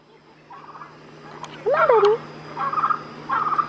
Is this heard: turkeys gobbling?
yes